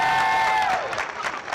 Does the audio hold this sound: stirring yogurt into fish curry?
no